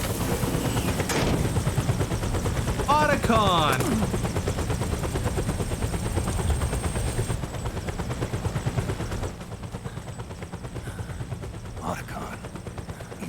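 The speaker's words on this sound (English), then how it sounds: "Why is that helicopter landing at this graveyard?" A helicopter sets down at a graveyard in Metal Gear Solid 4: Guns of the Patriots, its steady rotor thrum and engine drone filling the scene beneath a brief spoken line, then easing somewhat toward the end.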